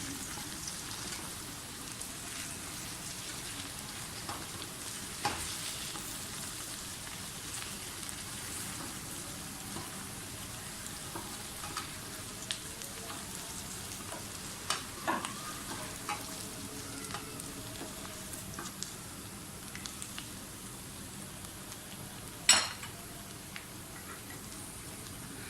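Onions and okra fry in a pan with a faint, steady crackling sizzle, scattered small pops and an occasional louder spit, all quiet and continuous with no voices.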